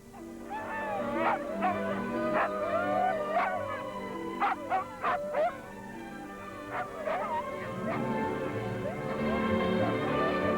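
A snow breed dog in Australia barks in short yips and whimpers with howl-like whines, loud and close, in repeated bursts over a low background hum.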